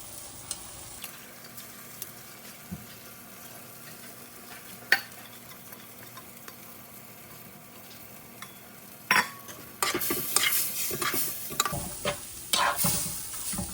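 Soaked rice and lentils are stirred and fried in a pan, with a steady soft sizzle and scattered scraping taps of a utensil that grow into louder, busier stirring near the end.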